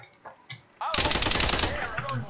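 Sustained burst of automatic machine-gun fire in the video game Arma 3, loud and close, a rapid continuous stream of shots after a few faint sounds, with a voice briefly heard before it starts.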